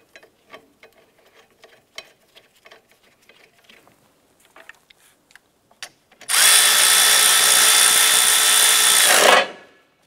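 Power tool driving an engine mount bolt on a Ford Five Hundred: one loud, steady whir lasting about three seconds, after quiet ticking and clicks of handling tools.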